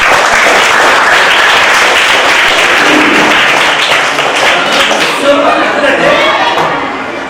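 Students at a school awareness session on human rights applaud together, a loud dense burst of clapping that stays steady and fades slightly toward the end.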